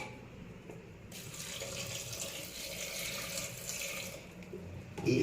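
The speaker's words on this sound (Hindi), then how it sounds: "इसमें हम पानी डालेंगे।" Water runs from a kitchen tap into a cooking pot holding cinnamon, cloves, cardamom, raisins and cashews, a steady moderate gushing stream lasting several seconds with no talk.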